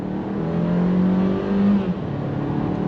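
A 2022 Kia Seltos small SUV engine pulls hard on throttle from inside the cabin, a loud steady drone rising slightly in pitch over a few seconds.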